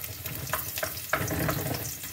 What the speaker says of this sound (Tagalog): Una na tugbutan ang ahos.